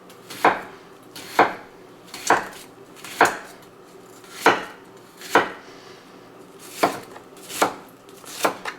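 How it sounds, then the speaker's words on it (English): Kitchen knife dicing an onion with downward slices on a cutting board, about ten crisp, evenly spaced chops nearly a second apart, close and clear, with no talking. "just very quickly dices up an onion"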